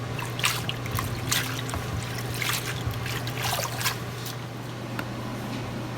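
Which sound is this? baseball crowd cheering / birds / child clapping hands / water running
water running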